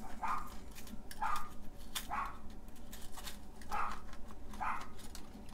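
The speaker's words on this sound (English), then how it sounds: "Who knows what they're barking at." Dogs bark outdoors in a handful of sharp, evenly spaced barks roughly a second apart, somewhat distant, over a steady low background hum.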